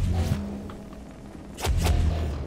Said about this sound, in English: I need my propulsion gun